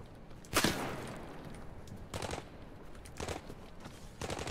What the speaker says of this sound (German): keine Ahnung, von wo der Schuss hier kam.